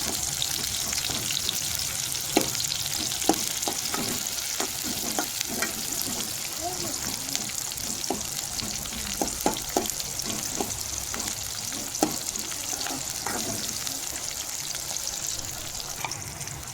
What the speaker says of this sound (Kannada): ಸ್ವಲ್ಪ ಎಣ್ಣೆಲೆಲ್ಲ ಬಾಡುವವರೆಗೆ ಕ್ಲೀನಾಗಿ ಇದು ಮಾಡಿ ಫ್ರೈ ಮಾಡಿ.